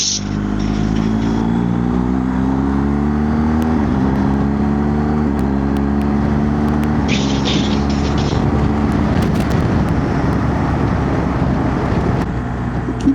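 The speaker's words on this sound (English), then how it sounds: "car coming on this bend" Motorcycle ride on Exmoor aboard a BMW R1250GS Rallye TE, with a car approaching on a bend: loud, steady engine drone with rising and falling pitch and wind rush throughout, no talk.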